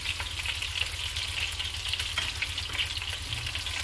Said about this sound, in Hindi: और इसको 1 से 2 मिनट फ्राई करेंगे।